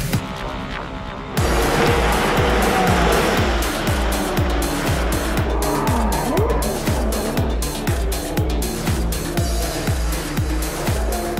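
Porsche Cayman race cars compete on a circuit, a loud sustained engine roar with rapid repeated gear changes and revving bursts close by, continuous throughout.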